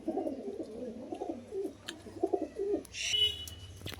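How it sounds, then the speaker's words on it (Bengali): A female pigeon coos softly in low, throaty phrases that repeat over a few seconds. A brief higher chirp sounds near the end. "এইটা মাদি পায়রা"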